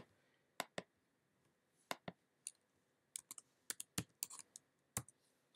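Typing on a computer keyboard while using Silhouette design software: sparse, crisp key clicks in short irregular clusters, close and fairly quiet against a low room hum.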